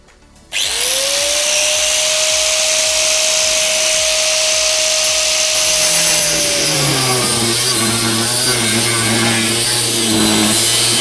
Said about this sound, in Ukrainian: Зараз ми розпиляємо даний двигун і подивимось, який там саме стоїть підшипник